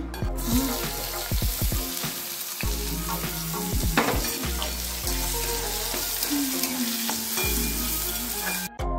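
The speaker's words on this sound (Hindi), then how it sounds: "ऑयल जो है वो गर्म हो चुका है तो डालते हैं इसमें प्याज" Onions frying in hot oil in a home kitchen pan, a steady loud sizzle with stirring clatter and scraping running throughout, no voices.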